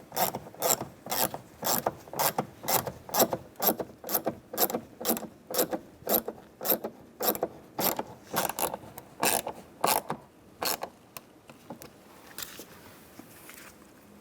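Ratchet clicking in a steady rhythm as it snugs a screw on an interior door panel of a 2011-2015 Chevrolet Cruz, close and fairly quiet, about twenty quick strokes that slow and thin out near the end.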